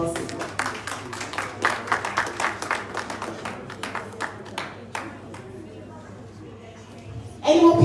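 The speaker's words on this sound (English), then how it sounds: "Please give her a round of applause." An audience at a town hall fundraiser in Manchester claps in a run of rhythmic rounds that slowly thin and fade, with a voice speaking briefly at the end.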